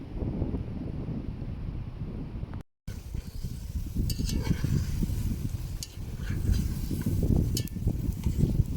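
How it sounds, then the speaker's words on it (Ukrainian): Meat sizzling in a pan over an outdoor campfire beside a river, a steady frying hiss with crackles and wind noise throughout, no voices. "смажиться м'ясо."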